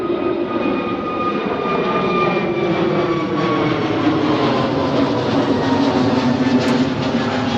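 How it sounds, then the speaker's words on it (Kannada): Airbus A320 airliner passing overhead, a loud continuous jet roar with a slowly shifting whine that holds steady throughout, no voices. "ಆ ಸೌಂಡೇ ಬ್ರೋ, ಏನೋ ಹೇಳ್ರಿ, ಸೌಂಡ್ ಮಾತ್ರ. Airbus A320."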